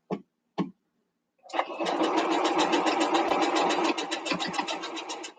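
Sewing machine stitching a quilt block at a quarter-inch seam, starting after two brief taps and then running in a steady, close, rhythmic whir of rapid needle strokes for several seconds before stopping.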